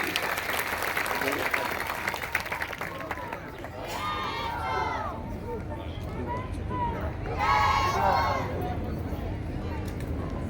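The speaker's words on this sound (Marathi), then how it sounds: "सर्वांनी एकदा जोरदार टाळ्या आपणसाठी." Loud applause from a crowd at an outdoor political rally in Shirwal, Maharashtra, ahead of Zilla Parishad and Panchayat Samiti elections, a dense steady clatter throughout with shouts and cheers rising over it near the middle and end.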